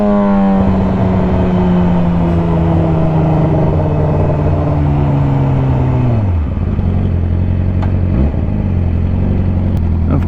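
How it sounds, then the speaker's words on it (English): A Toyota A90 Supra with a B58 engine passes nearby: a loud, smooth engine note sweeps steadily downward as it goes by, then settles into a low rumble under constant wind roar. "A90 Supra, that thing is sick. It's so clean. B58 power."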